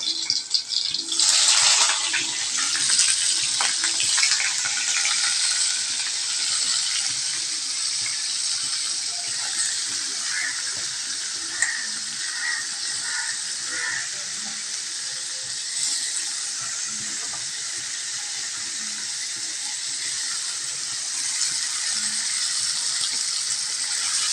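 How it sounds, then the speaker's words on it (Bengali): Fried paneer dropped into hot oil in a wok, giving a loud, steady hiss and crackle that bursts up at the start and then settles into continuous sizzling, with no talking. "কড়াইয়ের তেল গরম হচ্ছে। আর তেল গরম হওয়ার সাথে সাথেই আমি ফ্রাই করা পনিরগুলো গরম তেলের মধ্যে এভাবে ছেড়ে দেব।"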